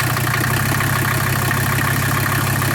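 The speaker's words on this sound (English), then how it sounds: "it's a loud engine, but you give it just a little gas" A loud engine idles steadily, a constant low rumbling drone with no change in pitch.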